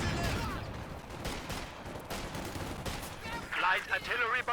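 Company of Heroes 2 World Championship match with dense in-game gunfire and artillery blasts, a rapid broadband clatter of shots and impacts throughout, with a voice briefly over the battle near the end.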